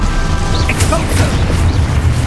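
An Expulso spell in Hogwarts Legacy detonates in a heavy, booming explosion with rumbling low end and scattered crackles and swishes throughout, close and loud.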